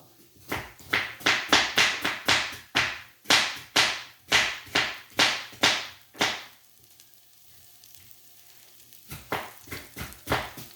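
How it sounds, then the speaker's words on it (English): A knife chops half a red onion on a board with a quick, even run of sharp close strikes, a pause, then a few more strikes, no talking heard. "Let me see if you can see me cutting it."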